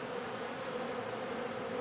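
A steady, dense buzzing of many bees in an open hive fills the whole stretch, a constant hum with no pauses and no voices.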